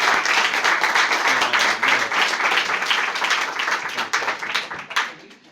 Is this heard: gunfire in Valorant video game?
no